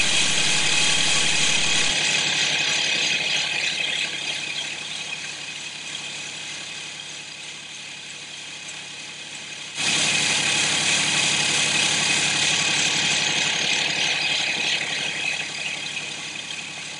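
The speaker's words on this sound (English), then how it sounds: "having the reels going backwards and applying it over the reels as they spin will sharpen it" Toro 3100D reel mower running its reels backwards while grit compound is spread over the reels and bed knives, a steady loud mechanical whir and grinding hiss that softens midway and then swells back up.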